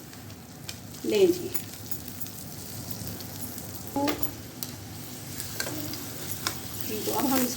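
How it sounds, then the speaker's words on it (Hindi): A cheesy pizza paratha frying in a frying pan gives a steady low sizzle with occasional scraping stirs, while a voice speaks briefly over it. "हम अपना पिज़्ज़ा जो है वो फ्राई पैन में डालते हैं"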